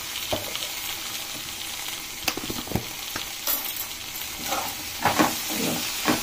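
Ginger garlic paste frying in a pan of okra curry, giving a steady close sizzle with a few stirring scrapes and spatters.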